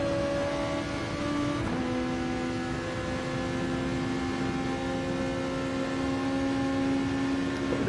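A Volkswagen Beetle race car in a GT2 racing game at Watkins Glen gives off a constant, buzzy engine drone that holds a level pitch, near and fairly loud, with a brief shift in tone early on.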